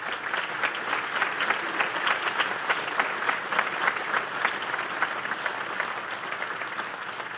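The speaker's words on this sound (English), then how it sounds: "If we could give them a round of applause, please." An audience at a high school National Honor Society induction ceremony breaks into steady, sustained applause that fills the room evenly from start to finish.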